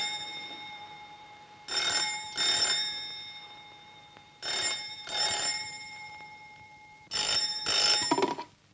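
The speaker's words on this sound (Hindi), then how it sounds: "जरा देखो तो किसका फोन है" A telephone rings in three pairs of bright, trilling double rings separated by pauses, heard in a quiet room.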